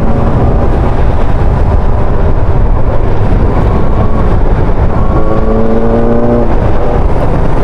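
SRK600 600cc motorcycle engine revving, a loud, close, continuous engine roar with rising pitch sweeps toward the end, with no talk.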